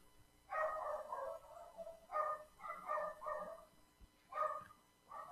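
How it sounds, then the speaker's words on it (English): Dogs barking in bursts, clustered yelps and barks with short gaps between them, moderately distant and fairly faint, with no talking. "Stupid dogs are barking"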